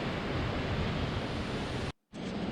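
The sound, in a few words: waterfall flowing on Colorado trail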